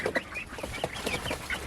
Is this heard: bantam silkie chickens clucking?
yes